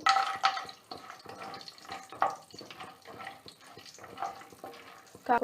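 Cashew nuts frying in oil in a pot while jackfruit dum biryani is being prepared: a quiet, steady sizzle broken by intermittent scraping and stirring clicks.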